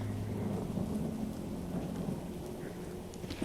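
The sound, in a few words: rain and thunder in The Walking Dead Saints and Sinners video game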